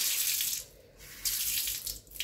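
Tap water runs steadily into a sink while hands are washed, a close hiss that dips briefly and then returns.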